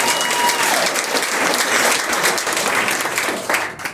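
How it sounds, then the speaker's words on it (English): Comedy club crowd gives a loud, sustained round of applause for a stand-up act, dense and close, tapering at the very end. "Give him a big round of applause."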